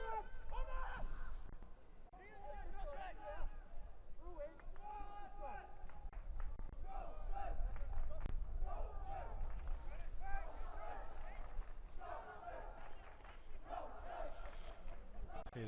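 Spectators at an Icelandic first-division men's football match between Þróttur and Fjarðabyggð, a steady crowd murmur with occasional shouts and cheers throughout, heard under continuous match commentary.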